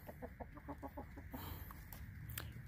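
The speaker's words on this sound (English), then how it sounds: "It's like the hens are fighting back." Farm hens scuffle with a rooster at feeding time, a quick run of rhythmic clucks followed by flapping and scratching, faint and close, with no voices.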